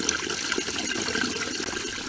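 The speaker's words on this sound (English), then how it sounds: "the drainage water is coming out" Drain water gushing out of a washing machine after a drainage fix, a continuous splashing, gurgling flow of moderate loudness that keeps an even pace throughout.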